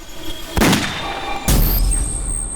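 Gunfire in a Hindi crime drama: two sharp, close bangs about a second apart, each with a short, heavy low rumble trailing after.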